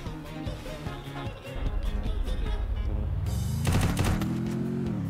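Rapid gunfire in the mobile shooter Free Fire, fairly faint and steady, with a rising engine-like drone building underneath toward the end.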